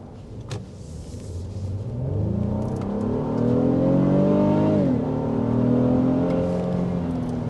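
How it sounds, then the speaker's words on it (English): A 2023 Honda Pilot TrailSport's V6 engine accelerates from inside the cabin, a rising hum that climbs in pitch, drops briefly at a gear change, then builds again. Steady and fairly loud, with no voices. "Of course, you'll recognize the sound of a V6 engine as well."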